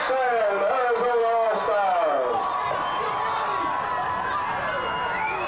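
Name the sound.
crowd cheering at youth football game touchdown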